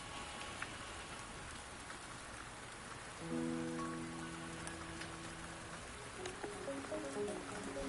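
Steady rain falls in the video game Wuthering Waves, a soft continuous patter throughout, with tonal game music or chimes entering partway through over the downpour.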